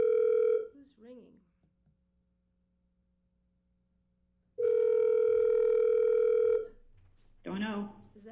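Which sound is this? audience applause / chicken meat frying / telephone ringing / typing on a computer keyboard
telephone ringing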